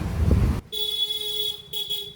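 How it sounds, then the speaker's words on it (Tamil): A car horn honks in a sustained tone outdoors, heard from a balcony, briefly breaking off and resuming, following a burst of low rumbling noise. "இங்கே ஹார்ன் சவுண்ட் எல்லாம் கேட்டுக்கிட்டே இருக்கும், ஏன்னா நான் பால்கனியில் இருக்கேன்"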